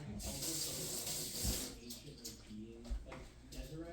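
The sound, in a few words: rinsing a teaspoon under running tap water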